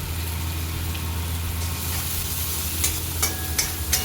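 Kashmiri chilli powder is stirred into a sizzling pan of vegetarian cabbage curry. A steady fry hisses close and constant, with a few sharp scrapes of the spoon near the end.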